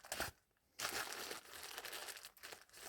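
Layers of plastic bag crinkle and crumple as they are pulled open, loud bursts of crackling with a brief pause, then a steady rustling that continues to the end.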